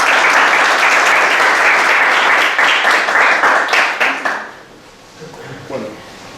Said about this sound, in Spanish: te dejamos con un aplauso en compañía de los profesores